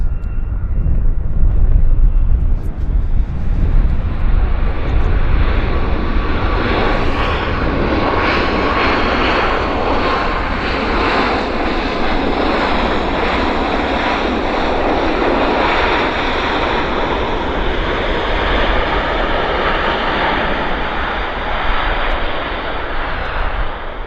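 A passenger airplane touches down and rolls out at Vancouver Airport with spoilers raised, a loud, steady engine roar filling the whole stretch and easing slightly toward the end.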